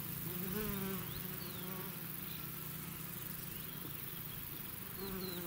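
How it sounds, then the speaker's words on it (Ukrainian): A steady, dense buzzing of many bees over a flower field fills the air outdoors, with faint higher chirps drifting in and out over the continuous hum. "Ви бачите, як активно працюють бджоли на цій території."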